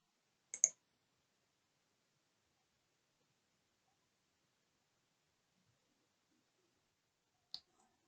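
Two quiet, crisp computer mouse clicks in Image-Pro imaging software, one near the start and another several seconds later, with near silence between them.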